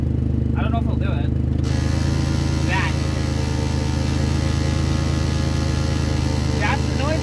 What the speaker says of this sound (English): That's the noise it makes when you try and put it into park.